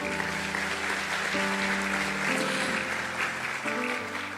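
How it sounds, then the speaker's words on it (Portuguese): Applause from a church congregation during a Sunday morning service, a dense continuous wash of clapping with sustained music tones underneath throughout. "Você pode aplaudir o Senhor?"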